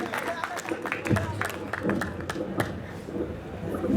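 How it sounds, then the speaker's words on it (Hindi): An audience at a Hindi kavi sammelan poetry gathering bursts into scattered clapping and crowd murmur, moderately loud, mixed with a voice speaking over it. "जोरदार ताली बजाइए आप सौरभ।"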